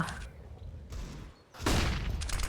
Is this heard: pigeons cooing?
no